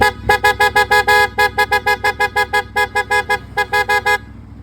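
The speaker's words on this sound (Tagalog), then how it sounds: "Pia horn with combo light" PIAA horn on a CF Moto 450 motorcycle, wired through a combo light selector, blasting a loud, close series of about twenty rapid, evenly spaced bright honks with no talk.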